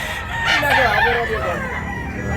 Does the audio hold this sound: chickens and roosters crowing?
yes